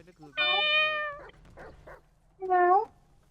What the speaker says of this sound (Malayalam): അല്ല പൂച്ച കരഞ്ഞ ഒറിജിനൽ പൂച്ച.